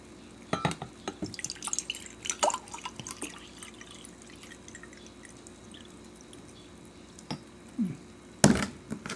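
Drinking water is poured to measure out 250, trickling and dripping in scattered splashes up close, with a louder clunk near the end and no voices.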